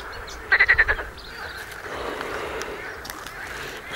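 Frogs croak loudly at night under a full moon on a marshy fishing shore, a quick burst of about five pulsed calls near the start, then a continuous chorus of croaking fills the background.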